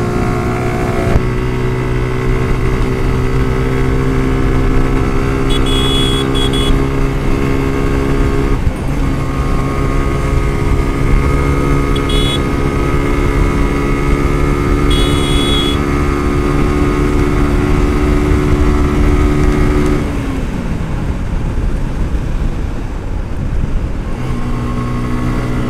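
A motorcycle engine drones loudly and steadily while riding, with a strong harmonic hum that shifts pitch briefly near the middle and drops lower toward the end.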